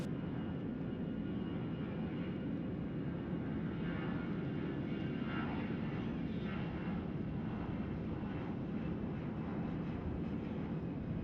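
Sustained roar of an easyJet jet airliner departing the runway at Gibraltar, a broad, steady engine rumble that holds loud throughout, with no speech.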